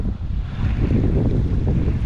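Strong coastal wind buffets the microphone on the Anglesey shore during sea fishing, a loud, continuous low rumble with gusty swells and no speech.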